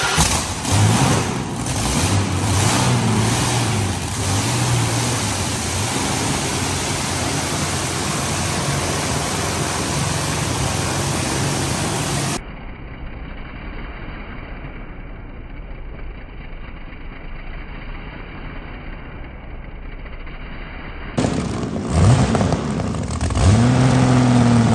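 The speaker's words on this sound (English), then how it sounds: "V12 Rolls-Royce engine." A Rolls-Royce V12 engine, started after 30 years, runs with a deep, steady rumble, muffled for a stretch in the middle, then returning loud and full near the end.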